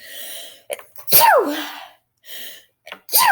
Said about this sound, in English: Ooh, I'm about to sneeze.